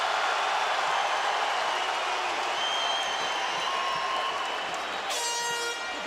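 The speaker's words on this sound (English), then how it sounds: "Crowd loving it." At a UFC fight, a large arena crowd roars and applauds without a break after a round, a dense, loud wash of cheering with no clear gaps.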